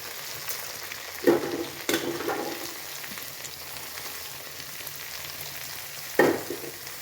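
Fried okra sizzles in a pan as sliced onion goes in, a steady frying hiss broken by a few louder stirring scrapes and clatters.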